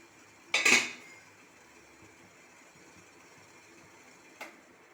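A metal pot lid lifted off after steaming a banana sweet, one sharp clattering clank near the start, then near quiet and a faint second tap of metal toward the end.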